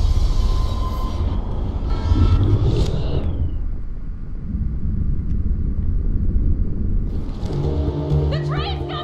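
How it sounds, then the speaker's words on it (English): In the Life is Strange video game, an approaching train produces a loud, continuous low rumble that swells and sustains, with urgent voices and tense music on top. "The train's coming!"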